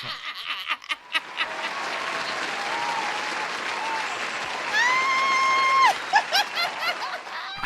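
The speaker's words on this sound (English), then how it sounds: "Give yourself a clap" Brief clapping and some laughter from a small group on a casual podcast recording, with a whistled rising tone near the end and scattered claps trailing off.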